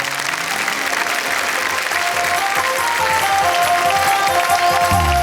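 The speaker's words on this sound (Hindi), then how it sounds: "जोरदार तालियों से।" Studio audience at a Hindi comedy poetry show gives a loud, continuous round of applause, dense clapping filling the space evenly, with music swelling in at the end.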